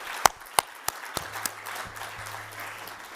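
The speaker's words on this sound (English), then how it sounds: "Can we just give a round of applause for democracy for just 1 second?" An audience at a city club annual meeting applauds, with a few loud individual claps up front thinning into scattered, fading clapping over a low hum.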